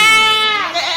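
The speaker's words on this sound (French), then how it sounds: "par moment où la chèvre elle bouge et elle peut se faire couper un tout petit peu. Donc là elle commence un peu à crier." A goat bleats loudly and close during shearing, one strained, wavering cry that fills the whole moment with no talk over it.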